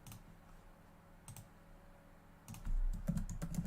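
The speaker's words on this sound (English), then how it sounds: "I'm fumbling at the keyboard, please excuse me." Fingers type on a computer keyboard at close range. A few scattered key clicks come first, then a denser, louder burst of rapid tapping over a faint room hum.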